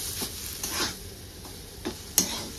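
Poha powder is stirred in a pan over a low gas flame, soft scraping strokes at irregular intervals over a faint background hiss, with one sharper tap of the utensil near the end.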